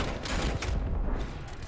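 Video game gunfire rattles out in a dense, continuous burst, loud and close, filling the short stretch with rapid overlapping shots and no talk.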